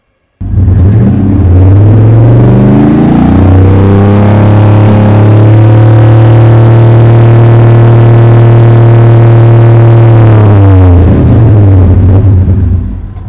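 Chevy pickup truck fitted with a Flowmaster American Thunder exhaust system revving: engine starts up, climbs to a loud sustained deep roar held for several seconds, then drops back and cuts off, close and very loud with no talking.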